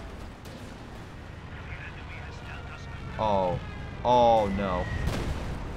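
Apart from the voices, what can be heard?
mortar and bomb explosions in video game Company of Heroes 2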